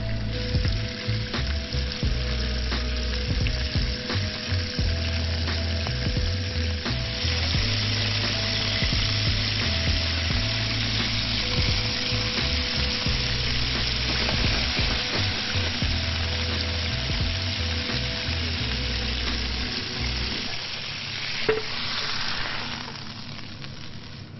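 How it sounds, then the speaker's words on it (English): Whiting fillets fry in hot oil, a steady loud sizzle and crackle running the whole way with no talk, easing slightly near the end after a brief clatter. "So I've got the hot oil here, and what I want to do is actually quickly just zap the whiting."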